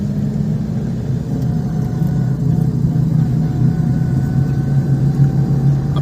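A car on a driving lesson rolls along with a steady low engine rumble that builds gently as speed rises, heard from inside the cabin with no voices.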